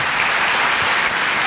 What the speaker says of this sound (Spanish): Un aplauso para mi hermano